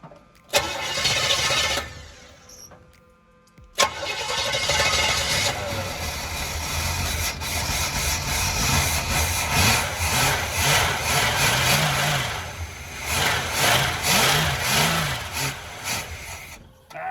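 A 1981 GMC Sierra truck engine, found running short on fuel with a suspect carburetor, cranks, briefly catches and dies, then cranks again and fires into a loud, uneven running roar that surges and rises toward the end.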